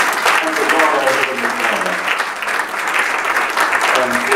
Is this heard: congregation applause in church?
yes